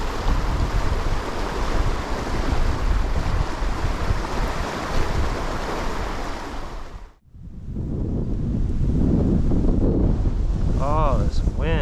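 Strong wind blasts the microphone outdoors while trout fishing in Wisconsin, a loud continuous roar that dips briefly in the middle. Someone speaks over the wind near the end.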